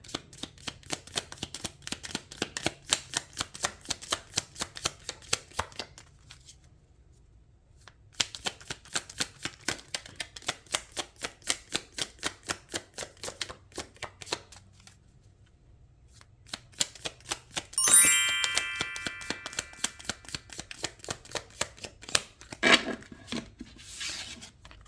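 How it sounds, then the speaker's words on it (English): Tarot cards are shuffled by hand in long runs of rapid riffling flutters, broken by short pauses, with a louder snap and shuffle burst near the end. "All right, so let's get shuffling."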